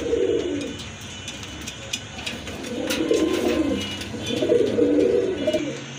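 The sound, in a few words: pigeons cooing, Red Indigo pigeon pair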